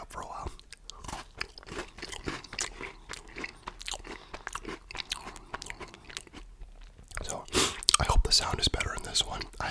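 Crunchy Cadbury Chocolate Fingers are bitten and chewed close to the microphone in repeated sharp, snapping crunches, with soft whispering in between.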